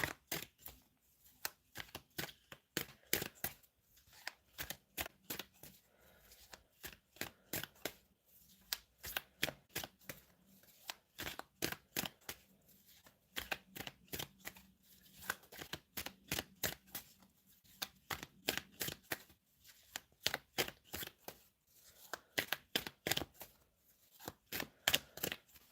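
Tarot cards being shuffled and drawn, a long series of soft crisp riffling bursts and taps in uneven clusters, close and quiet, with no talk.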